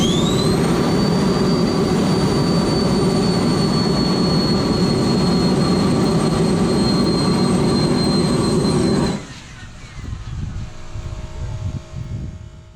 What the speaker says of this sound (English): Here are two camera views of an initial hot fire test of the engine